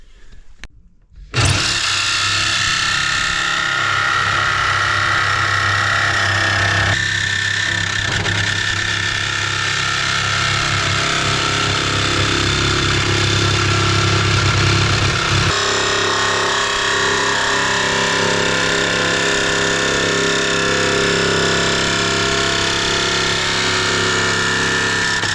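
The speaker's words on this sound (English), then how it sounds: "That should let us get the jigsaw in there to cut this hole out" Jigsaw cutting a hole through the body of a Ram ProMaster camper van, a loud continuous buzzing blade that starts abruptly and runs steadily, shifting pitch slightly partway through, close up with no talk.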